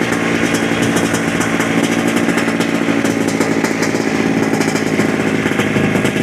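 A Polaris TrailBlazer 250 ATV engine runs steadily and loudly up close, a continuous buzzing two-stroke drone with no talk over it.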